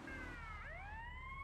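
A police car siren in GTA Vice City wails nearby, its tone sweeping down and then climbing again in one continuous cycle.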